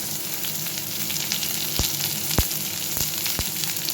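Chopped onion and garlic fry in a little oil in a pot, giving a continuous close sizzle with a few sharp pops or scrapes of stirring scattered through.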